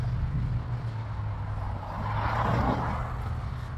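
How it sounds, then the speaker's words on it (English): Steady street traffic noise outdoors along a road on a walk to a supermarket in Connecticut, a continuous broad low rumble of passing cars with a swell of a louder vehicle going by midway; no talking. "I will not compete with this traffic noise."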